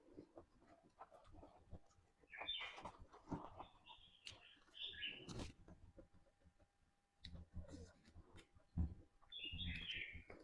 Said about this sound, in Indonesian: Suara burung, suara ayam.